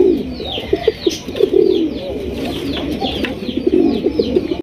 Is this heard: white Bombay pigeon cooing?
yes